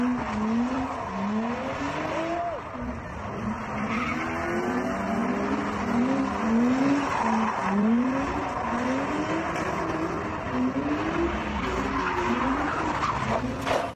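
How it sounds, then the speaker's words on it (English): A car does burnouts on a Los Angeles street, its tires squealing in long repeated rising and falling screeches over a loud revving engine, continuous and fairly close with no talking. "the people who looted that store then did burnouts in the street"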